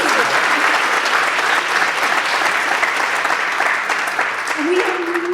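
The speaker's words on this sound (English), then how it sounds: "Now, a round of applause for everybody." An audience at a community sports hall of fame ceremony in Coquitlam breaks into steady, full applause that fills the hall. Near the end, a voice begins speaking faintly beneath it.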